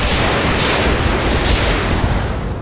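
Weapon fire in the video game Roguepoint: a dense, loud, continuous roar of broadband gunfire and blasts filling the whole stretch, with a couple of brighter bursts standing out.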